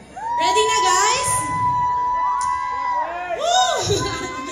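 Children cheer and shout together at a birthday party, a loud excited crowd of young voices with whoops rising in bursts, bright and close, with kids' chatter mixed through.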